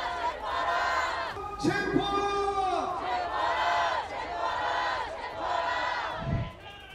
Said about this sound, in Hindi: इन लोगों की नारेबाजी और तेज हो गई।